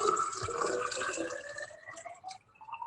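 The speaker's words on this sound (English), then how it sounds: "a very distinctive sound, like pouring yourself a tall, cold glass of beer" Liquid pouring into a tall glass, a watery splashing stream whose tone climbs steadily in pitch as the glass fills, then thins into faint trickles at the end.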